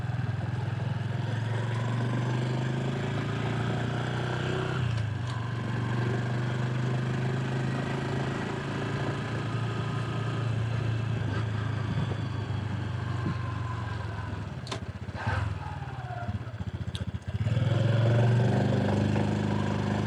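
A 2019 Honda Super Cub C125 motorcycle engine runs steadily while riding, with a continuous mid-pitched drone, brief shifts in tone near the end as it pulls away from a stop, and wind noise throughout.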